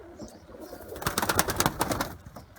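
Kırıkkale pigeons in a coop give a burst of close, throaty cooing with rapid rolling pulses, set against faint background noise.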